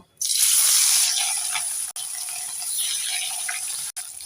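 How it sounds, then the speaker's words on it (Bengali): Rohu fish hitting hot oil in a wok sets off a strong, bright sizzle that spikes at the start, then settles into a steady hiss broken by two brief gaps. "এবার আমি মাছটাকে ভেজে নেব"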